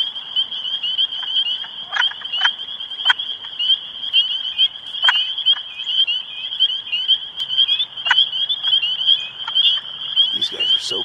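Wood frogs croak in a spring chorus, with a dense run of short, clucking calls repeating steadily up close over a constant background trill.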